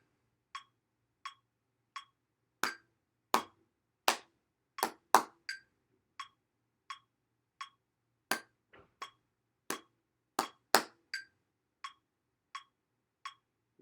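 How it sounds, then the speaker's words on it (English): Hands clapping in a steady counted rhythm for an exercise drill, crisp isolated claps with louder accented beats, no other sound between. "let's clap it"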